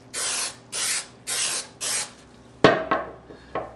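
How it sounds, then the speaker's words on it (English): An aerosol adhesive can sprays in four short, even bursts onto a display board, followed by a few sharp knocks and taps as something is set down. "I'll shake that. I'm going to spray"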